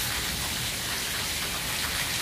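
Steady rain falls continuously on outdoor surfaces on a rainy day in Pakistan, a dense hiss of drops with no talk.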